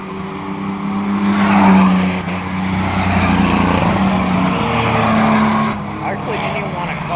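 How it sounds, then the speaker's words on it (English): Racing trucks roar around a track during a qualifying race, a continuous loud engine drone with pitch swells as vehicles pass, under a commentator's voice. "At this point, we're led by John Holiday in truck number 42."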